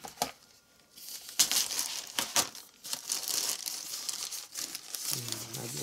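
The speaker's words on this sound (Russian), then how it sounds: "Пакет придется раздербанить" A plastic package being torn and ripped open by hand, close and fairly quiet crinkling and tearing bursts in uneven spurts, with a brief faint voice near the end.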